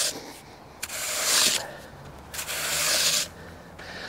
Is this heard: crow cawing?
no